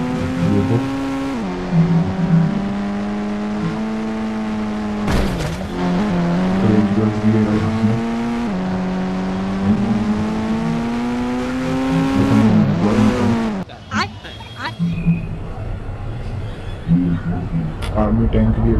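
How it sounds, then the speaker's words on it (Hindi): A Toyota Innova is driven in an Indian bike driving game, its engine humming loudly and revving up and down with a few abrupt cuts and changes, while someone talks over it. "मैं इनोवा कार को चला के दिखा रहा"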